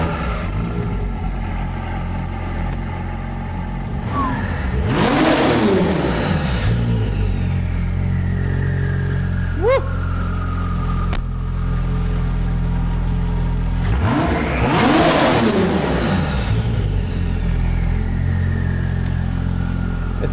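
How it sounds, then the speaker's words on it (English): Porsche 911 GT2 with an 800 hp engine running at idle, a steady low burble rising twice into louder swelling blips, heard up close outdoors. "It sounds like the most modest 800 horsepower ever"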